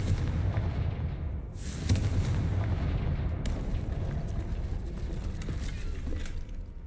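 Blasting Confringo spell explosions from Hogwarts Legacy, a dense, continuous rumble of heavy booms with sharp bursts near 1.6 and 3.5 seconds, loud and sustained throughout with no talking.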